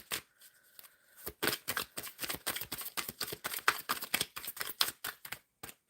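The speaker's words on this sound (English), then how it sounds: "All right, so I am shuffling." Tarot cards are shuffled close by in a rapid run of crisp riffling flicks, steady and rhythmic for several seconds with no talk.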